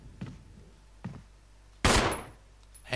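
A single loud gunshot in the video game Resident Evil HD Remaster cracks out after a couple of soft thuds, with a quick tail of noise fading afterward.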